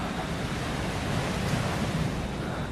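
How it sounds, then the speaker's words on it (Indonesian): Ocean surf roars steadily from the top of a Dutch colonial fort in Surabaya, a dense, continuous wash of breaking waves mixed with wind buffeting the microphone, with no talking. "sekarang kedengeran banget guys suara laut, suara ombak maksudnya"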